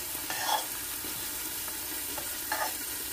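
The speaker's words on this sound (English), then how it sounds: "Don't forget to stir it up, stir up the eggs" Eggs for a New York style sausage, egg and cheese sandwich are stirred in a frying pan, a soft steady sizzle with two brief scraping strokes of the utensil, one early and one near the end.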